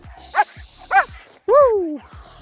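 A young German Shepherd or Malinois barks twice in sharp yips, then lets out a longer rising bark, close and loud, during bite-sleeve training, with a voice around it.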